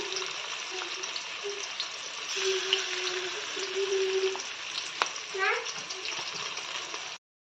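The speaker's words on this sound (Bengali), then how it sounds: "এই যে পেঁয়াজটা ভাজা হয়ে গেছে" Onion sizzles steadily in hot oil with ginger, garlic and green chili paste, while a spoon stirs through it and a voice talks over the frying.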